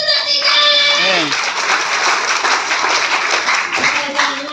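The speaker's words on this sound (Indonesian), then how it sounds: "Belum mengerti pun tepuk tangan bagi Tuhan yang benar-benar." A church congregation claps for God during a sermon, dense loud hand clapping mixed with voices, after a brief sung or drawn-out vocal tone at the start.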